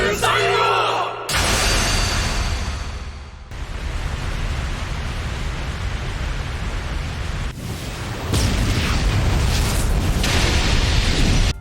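A loud, sustained roaring fire explosion from an anime fantasy battle scene, with pure fire being held back by a protective magic barrier; the blast rumbles continuously throughout, surging again near the end.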